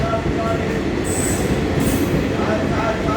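A train at Kannur railway station makes a loud, continuous rumble with a high metallic wheel squeal that rises briefly over the roar.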